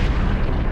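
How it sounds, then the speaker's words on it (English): A battleship explodes in the space video game EVE Echoes with a dense, loud, continuous booming rumble. "Battleships have very pretty explosions."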